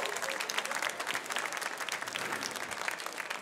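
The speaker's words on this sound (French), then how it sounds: "Et c'est le time, on l'applaudit bien fort" Audience clapping at a coffee brewing competition during a Brewers Cup event at SIRHA, a steady burst of moderate applause from a crowd, fairly distant and unbroken throughout.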